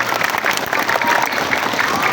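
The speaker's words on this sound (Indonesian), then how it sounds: "Tepuk tangan dulu" Schoolchildren from grades one to six clap together at a school gathering, a brief burst of busy, fairly loud applause with a few voices mixed in.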